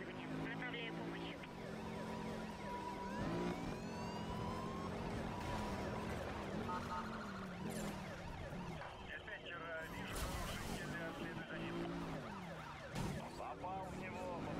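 A police car siren wails in Need for Speed Rivals during a chase, rising and falling over engine noise and game effects, loud and continuous, with dispatch-style voices talking over it.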